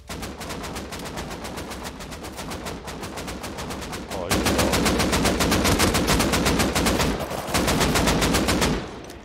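Rapid automatic gunfire from the video game Rust Console Edition, dense steady bursts of shots filling nearly nine seconds, growing louder midway with a brief pause before a final burst.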